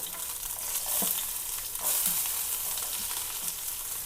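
Chopped onion frying in a hot pan with masala powder and turmeric, crackling sizzle close by with a few spatula scrapes and knocks against the pan, no voices.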